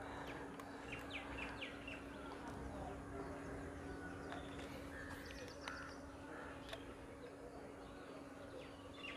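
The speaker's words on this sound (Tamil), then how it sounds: "அந்த மேக்பை ராபின் அங்கே" A magpie robin calls around a home in India, giving scattered short, faint chirps and whistles over a steady low hum in the background.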